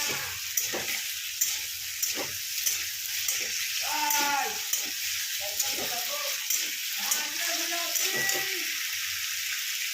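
Potatoes frying in a pan over a high gas flame give a steady sizzle, with intermittent scraping and stirring clatter and a few faint voices in the background.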